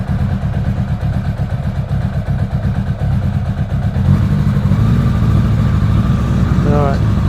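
A Suzuki Bandit 600 motorcycle engine runs on choke at close range, a steady loud idle that rises slightly in pitch and intensity midway through.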